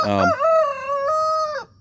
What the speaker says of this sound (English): That one, rooster, came from Jan's in Missouri.